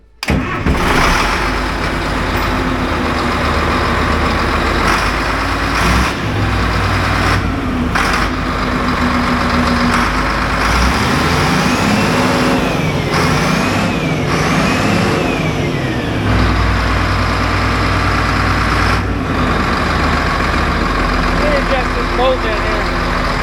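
A Cat D7F bulldozer engine runs loud and close throughout, a steady diesel rumble with throttle changes rising and falling, and a voice talking over it.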